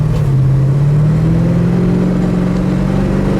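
A 1966 Ford Fairlane 500 convertible engine runs steadily at a low idle hum, close up and constant, with a slight rise in pitch partway through and no voices.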